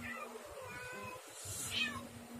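A cat meows several times in quick succession, the cries rising and falling over a steady low hum and soft background noise.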